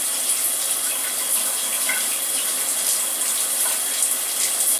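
Tap water runs steadily while conditioner is rinsed out of hair during a beauty treatment, a continuous bright hiss and splash at close range with no talking.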